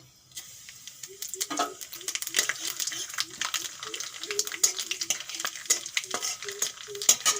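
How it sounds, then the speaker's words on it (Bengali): A bay leaf and nigella seeds sizzle in hot oil, a crackling hiss with fast, regular ticking and popping spattering through it, close up, and a voice talks over part of it. "তেল গরম হয়ে গেছে ফোড়নে দিয়ে দেবো একটা তেজপাতা আর কালো জিরে"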